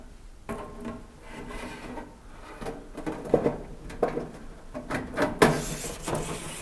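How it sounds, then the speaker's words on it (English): Masking tape being pulled off the roll and pressed onto a stainless steel range hood, close rustling, peeling and rubbing sounds in irregular bursts that grow louder toward the end. "I'm just putting on my last piece of tape here to make sure I hold it in place."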